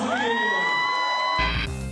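Wedding guests cheer at the bride's entrance, a sustained rising whoop from a crowd that breaks into a louder burst of noise near the end.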